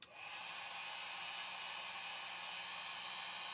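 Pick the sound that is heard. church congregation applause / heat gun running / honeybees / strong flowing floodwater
heat gun running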